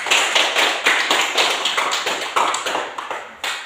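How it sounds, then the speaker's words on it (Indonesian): Sixth-grade primary school class clapping hands for a classmate, a few children clapping in quick uneven bursts, close and crisp, with no talk over it. "Tepuk tangan untuk Elsi dulu."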